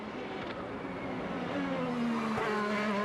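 A 2025 IndyCar race car accelerates during Long Beach Grand Prix qualifying, its engine note climbing steadily at a distance under continuous broadcast ambience.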